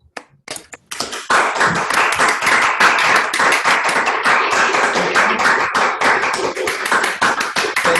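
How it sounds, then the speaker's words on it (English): Applause from an audience at the close of a conference session: a few scattered claps, then dense, loud, sustained clapping close by, with no talk over it. "So unleash your microphones and clap to all people here"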